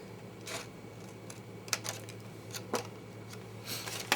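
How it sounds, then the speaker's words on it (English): Scissors snipping around a paper tab on a handmade treat box with attached lid, a few short crisp cuts scattered irregularly, close and quiet with no talking. "I want to go ahead and cut my tab. Round off my tab."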